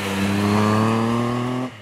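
A 2018 Triumph Tiger 1200 XCx triple-cylinder engine with an aero exhaust revs high and steady for under two seconds, then cuts off sharply, loud and close.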